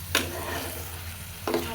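Duck egg curry masala fries in hot oil with a low, quiet sizzle, and two short bursts of stirring scrape through it.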